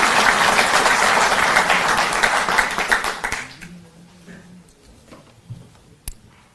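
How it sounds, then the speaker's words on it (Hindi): Audience applause at a Delhi government ceremony where a chief minister and minister are welcomed with bouquets, a dense loud clapping wash for about three seconds that tapers off, leaving quiet room noise with a few isolated claps. "हम जोरदार तालियों के साथ शामिल हैं"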